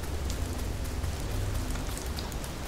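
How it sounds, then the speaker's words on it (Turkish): Steady rain falls in the video game Fears to Fathom: Ironbark Lookout, a dense continuous patter of raindrops on surfaces, loud and even throughout with no speech. "Vallahi ıslandık ya yağmurda."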